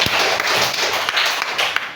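A classroom of students breaks into brief, dense clapping for a classmate, a close, busy patter of many hands lasting about two seconds.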